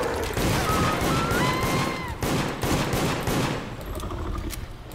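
Rapid bursts of gunfire ring out in the video game Deceit, loud sharp shots crackling in quick succession over a few seconds, with no voices.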